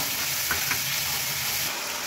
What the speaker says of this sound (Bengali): কাঁচা গন্ধ যাতে না বেরোয় তার জন্য একটু ভেজে নেব